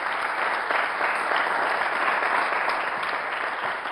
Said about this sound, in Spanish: Le vamos a entregar el diploma a continuación a Cristian Barrales, para que pido un fuerte aplauso.